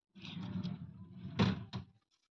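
Two drawers of a grey dressing drawer unit in a furniture store slide open and shut, a soft rumbling glide followed by two sharp knocks close by, quiet overall.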